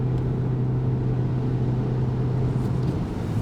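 Mitsubishi Eclipse Cross under acceleration with a single fixed gear: a steady, droning engine note holding one unbroken pitch with no shift, heard from inside the cabin, loud and continuous.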